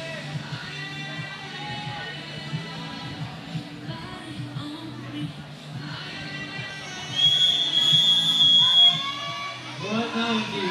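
A referee's whistle blows at a novice climbing competition final, a steady high tone rising over the crowd noise and commentary, with announcers talking throughout.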